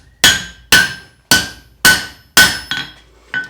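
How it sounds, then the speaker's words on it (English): A hammer strikes a steel tent stake on an anvil in a blacksmith's forge as the stake is flattened. Six sharp, ringing blows land about half a second apart, each one clear and close, and no one speaks. "So what I'll do is come back up on the top of the anvil, flatten it out."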